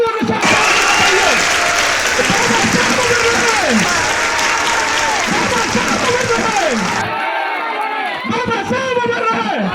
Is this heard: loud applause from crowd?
yes